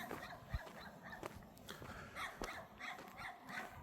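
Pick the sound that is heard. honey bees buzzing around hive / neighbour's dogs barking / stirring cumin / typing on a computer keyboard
neighbour's dogs barking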